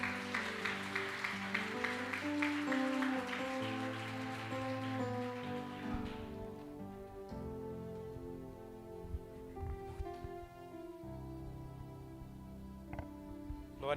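A congregation in a Baptist church applauds in a dense, rain-like patter for about six seconds, then the clapping fades into soft sustained tones.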